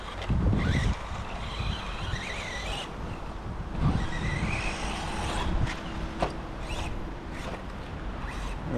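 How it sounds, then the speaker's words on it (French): A Kyosho MP9 Evo 2 nitro RC buggy engine revs and whines in rising and falling bursts over an outdoor track, partly masked by wind and low rumbling background noise. "Là le moteur il est plus doux."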